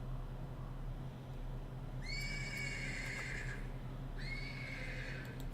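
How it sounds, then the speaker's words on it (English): A horse in a stable whinnies twice in the Black Book video game, each neigh a drawn-out, quavering call heard over a low ambient hum, the second following about a second after the first ends. "Persistent neighing of a horse can be heard from the stables."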